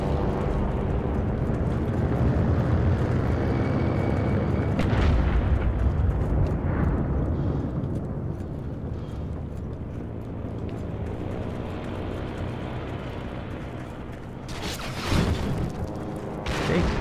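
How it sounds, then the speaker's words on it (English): A propeller warplane drones over a World War II battlefield in Heroes & Generals, a loud, steady engine rumble that swells and fades, joined by explosions and a sharp burst near the end. "That sounds like a plane."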